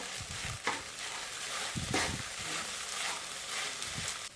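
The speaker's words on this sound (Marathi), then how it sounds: "इथे तुम्ही पाहू शकता आपली ही जी खिचडी आहे ही जवळपास परतत आलेली आहे" Sabudana khichdi, a traditional fasting dish of tapioca pearls, stir-fried in a pan: close, repeated scraping stirs over a steady soft sizzle, with a few sharper knocks of the spoon.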